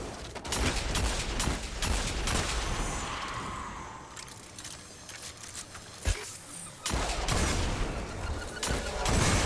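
Grenades and gunfire in Destiny 2 during a Legend lost sector run: dense, continuous combat noise with bursts of shots, a sharp impact partway through, and explosions, loud and busy throughout.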